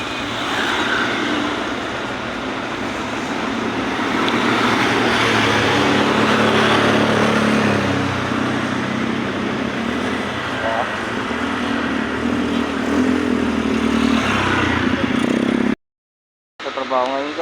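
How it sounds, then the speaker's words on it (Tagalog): Steady road traffic of cars and motorcycles: a continuous close rumble and hiss of passing engines, heard from a moving rider, with talk mixed in and a brief dropout near the end. "Traffic."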